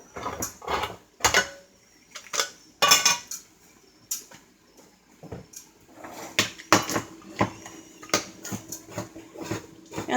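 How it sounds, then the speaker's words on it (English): Potatoes boiling in a covered cooking pot give off irregular close clicks and small metallic knocks against the lid, scattered in bursts with quiet gaps between them, with no one talking. "potatoes are starting to click there"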